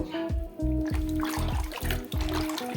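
Beef tripe washed under running water makes a rhythmic sloshing and splashing, repeated wet surges roughly every half second over a steady tap flow, close and moderately loud.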